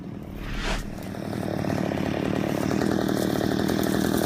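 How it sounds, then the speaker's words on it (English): Chainsaws idle and cut through dead trees during yard work, a loud steady engine drone that rises and holds close by without pause. "We got our chainsaws out still."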